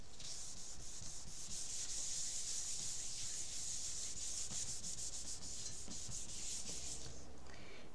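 Paper rubbed by hand over a gel press printing plate, a soft, steady scuffing that continues for several seconds, faint and close, with no talk.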